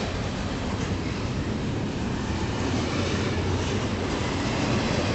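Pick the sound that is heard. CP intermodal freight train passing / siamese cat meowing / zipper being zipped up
CP intermodal freight train passing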